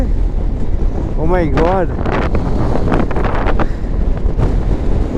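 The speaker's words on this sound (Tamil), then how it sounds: "ஃபர்ஸ்ட் டைம் நம்ம சாண்ட் ஸ்டாம்பில் போயிட்டு இருக்கோம்." Sandstorm wind roars on the road to Pangong in Ladakh, a loud, continuous buffeting rush over the microphone, while a rider exclaims and talks over it.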